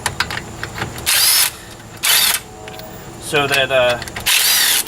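Ryobi cordless power tool, from the P261 and P737 line, spinning off car lug nuts during a brake job: three loud bursts of whirring and rattling, with someone talking in between.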